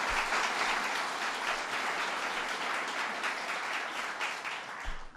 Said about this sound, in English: Let's give a big round of applause to Howard Zemsky